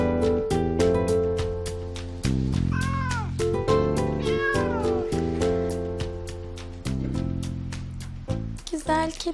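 A domestic cat meows a few times in a scene from a Turkish TV drama, with the rising and falling cries heard over steady background music and occasional voices.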